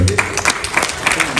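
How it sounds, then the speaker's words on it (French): At an evening dinner gathering, a short round of crowd applause for the mayor rises in uneven bursts of claps, with murmured voices mixed underneath. "Je vais vous demander d'applaudir pour le maire, s'il vous plaît."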